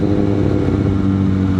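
Engine of a 2022 Kawasaki ZX6R motorcycle running loud and close, a steady throaty drone with strong low harmonics held throughout.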